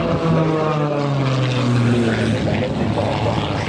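A propeller aerobatic airplane performs competition manoeuvres at Cannes in 2018. Its loud engine drone holds close and steady, and the pitch slides downward as the plane banks through a high-load turn.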